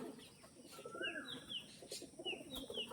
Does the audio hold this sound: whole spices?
no